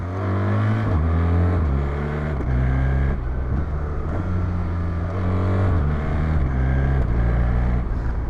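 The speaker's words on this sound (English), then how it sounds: "I'm trying to show you the quick shifter is a huge improvement" A BMW R1300GS motorcycle engine revs hard and drops briefly at each quick-shifter gear change, giving a stepped rising pattern of about half a dozen shifts, close and loud with no talking.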